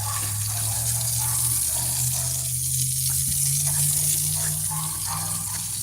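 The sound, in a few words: water running while watering garden plants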